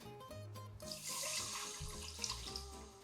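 A cup of water is poured into a saucepan holding butter and sugar for cookies. The pour is a close, steady splashing rush over soft background music.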